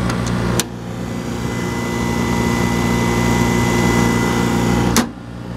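A Honda 6000 watt generator mounted in a 1998 Ford E250 news van, running as a steady loud mechanical drone with a constant hum throughout, two brief sharp clicks near the start and end, no talk.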